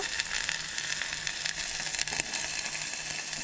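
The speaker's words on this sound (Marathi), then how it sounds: "हांगसर फोडणी मारून घेवया मातशी कांद्याची" Onions frying in hot oil for a lobia beans dish give a steady, close sizzle and crackle, hissing continuously without pause.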